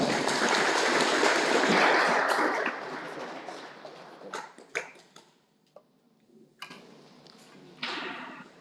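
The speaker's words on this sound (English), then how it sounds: "Let's clap for him as he comes" Applause from an audience at a school career fair in Kenya, dense clapping for a speaker about to take the stage that fades out after about three seconds, followed by scattered single claps and small knocks in a quieter room.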